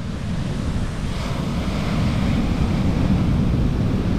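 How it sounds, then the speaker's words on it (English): Heavy surf pounds continuously, a deep roaring rumble of large waves breaking close by, with wind buffeting the microphone throughout. "These waves are huge."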